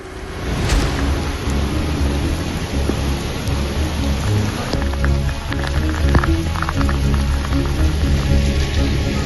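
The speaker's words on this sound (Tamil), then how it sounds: "மணி நேரத்திற்கும் மேலாக பலத்த மழை பெய்துள்ளது." Heavy rain pours down in Tindivanam, Tamil Nadu, a loud, steady, close hiss of water that never lets up, with a low rumble running beneath it throughout.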